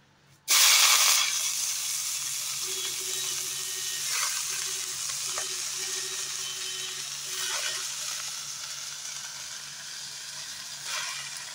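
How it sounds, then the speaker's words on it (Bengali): Fresh winter cabbage dropped into hot oil in a wok bursts into a loud sudden sizzle that settles into a steady hiss, with occasional faint utensil taps and clinks, close up and with no talking. "এবার কড়াইয়ের মধ্যে তেল আছে, ওই তেলের মধ্যেই প্রথমে আমি বাঁধাকপিগুলোকে দিয়ে দেব।"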